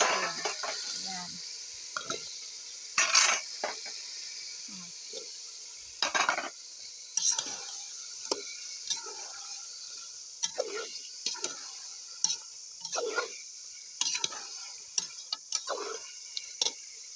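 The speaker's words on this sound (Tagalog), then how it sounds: "Tomatoes is already paste. Now we can put this pumpkin. Slices of pumpkin." Pumpkin slices cooking in tomato paste in a pan give a soft steady sizzle, broken by repeated scraping and stirring clicks of a utensil against the pan.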